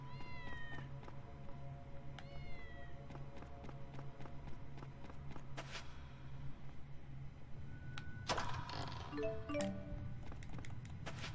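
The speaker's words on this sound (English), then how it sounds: "I hear another cat." In the video game Tales of Xillia 2, a cat meows twice in quick short calls, then a busier patch of footsteps and game effects follows over a low steady background hum.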